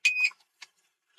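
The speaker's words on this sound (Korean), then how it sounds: "일산화탄소 경보기." A Bandit carbon monoxide alarm with temperature and humidity readout, used for winter camping with a convection kerosene heater, gives a short bright electronic chirp followed by a fainter second blip, close and alone.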